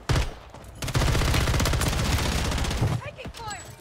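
Automatic gunfire in the game Warzone: a fast, loud burst of rapid shots running for about two seconds, then trailing off into softer echoes and faint game sounds.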